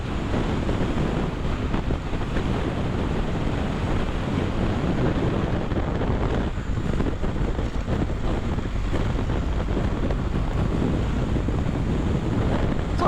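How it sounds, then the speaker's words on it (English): Strong wind buffets the microphone on a road trip through Alaska, a constant low, rumbling roar that runs unbroken and fairly loud throughout, with no voices. "It's already crazy windy today."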